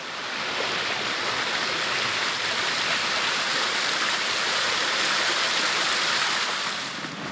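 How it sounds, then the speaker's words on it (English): A small waterfall and stream among big tree ferns at Terry Hills near Sydney sends up a steady, dense rush of falling water, constant and fairly close, with no voices over it. "There's definitely a cool little section of waterfall type stuff here"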